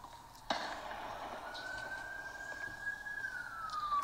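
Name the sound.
ambulance siren passing outside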